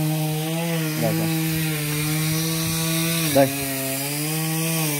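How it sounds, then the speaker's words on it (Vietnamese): A chainsaw cuts into a tree in the countryside, with a loud, steady buzzing drone and brief shifts in pitch as it bites. Someone speaks a couple of words over it. "Chú tôi đang tiếp tục đi cưa cái cây bên kia."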